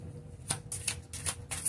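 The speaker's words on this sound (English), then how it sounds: "I just shuffled that one right back into the deck." Oracle cards being shuffled by hand, four quick crisp riffling bursts at regular intervals, close and clear with no talking.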